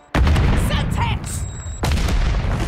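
Loud, close gunfire in the Modern Warfare 3 video game: sharp shots and booming bursts that come in a few clusters, with short gaps between them, under a busy battle mix.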